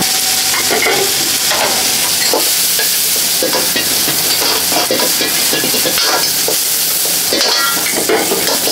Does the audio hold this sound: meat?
yes